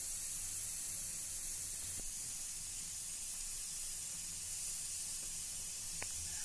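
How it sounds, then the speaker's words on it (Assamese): A pot of stinging fish (singhi) curry with potatoes boils on a stove, giving a steady, quiet hiss and bubble with a couple of faint clicks and no talk. "এতিয়া চব্জিখন উতলিছে, মাছৰ জোল"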